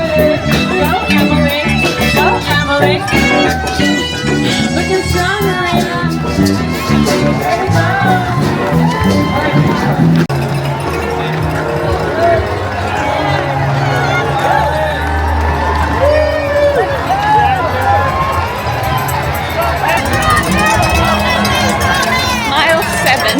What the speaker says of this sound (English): Crowd insane.